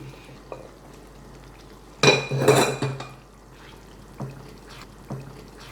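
Spoon stirring cooked beef into a Kerala-style curry gravy in a pan, a loud burst of scraping and clattering for about a second, then quieter occasional clinks and thick wet stirring alone.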